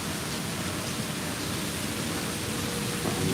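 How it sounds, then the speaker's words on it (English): Heavy rain pours down during a storm at Disney, close beside a building wall, as a dense, steady roaring hiss that holds nearly constant and swells slightly near the end, with no voices. "the rain is coming in and coming in hard"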